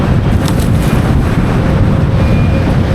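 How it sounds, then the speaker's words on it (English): Strong wind buffeting the microphone while windfoiling on open water: a loud, constant roaring rumble with gusty low-end pressure and a faint hiss of water and spray. "Wind seems pretty strong."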